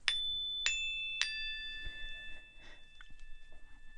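Three classroom chime notes struck one after another about half a second apart, each clear and bright, their overlapping tones ringing on and slowly fading into quiet room noise.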